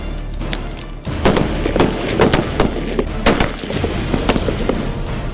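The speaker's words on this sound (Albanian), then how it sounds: "thuaj se çdo ditë bëjnë gjuajtje taktike në poligon" Long guns fired by a Kosovo police special unit during tactical shooting drills at a range: loud, sharp reports in irregular bursts, several shots per second at times, close by over a steady background with no talk.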